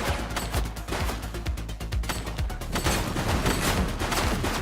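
Dense video-game gunfire in a police shootout: rapid, continuous bursts of shots and loud rattling volleys filling the whole stretch, close and loud, with no talk over it.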